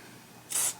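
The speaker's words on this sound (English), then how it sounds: "I'll spray the bolt face, and I'll spray the inside of the barrel here." A single short hiss of all-in-one cleaner sprayed onto the bolt face of a Ruger Mark IV Tactical pistol, a close, bright burst lasting about a quarter second after near silence.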